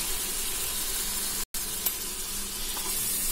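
Tomato pieces sizzle steadily in a hot pan while cooking goat head curry, a continuous close frying hiss broken by one very brief cut.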